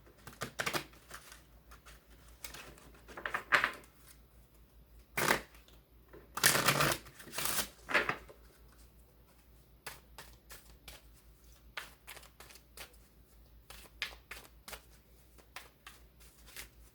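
Oracle-style spirit reading cards are shuffled by hand in scattered bursts of riffling and soft slaps, near and moderately quiet, with pauses and light handling clicks between.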